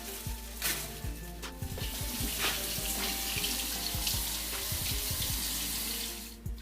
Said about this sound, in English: So I'm going to remove this from the packaging and give it a good rinse.